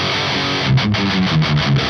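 Heavily distorted metal electric guitar plays through a Celestion V30 speaker, a loud, dense, saturated tone with a short run of chugging, palm-muted notes near the end, alone with no voice.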